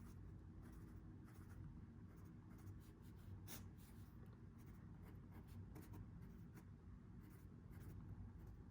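A pen writing on paper cash envelopes, with soft, quiet scratching strokes in short bursts, close up and without speech over a low background hum.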